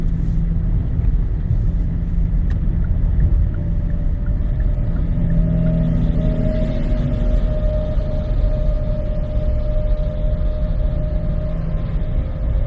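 Steady low road rumble from inside a Kia EV6 cruising at 70 mph on a highway on new tires, with a faint tonal whine running through the constant motor and tire noise.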